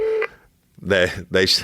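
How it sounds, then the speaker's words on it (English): A phone gives off a pair of short, bright electronic beeps, close and fairly loud, separated by a brief gap, with a softer tone just before them. "That's my phone beeping."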